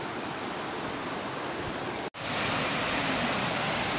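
Awasa Falls in Baganga pours down as a loud, steady broadband roar of falling water, close by, with a brief dropout midway before the rushing resumes even fuller.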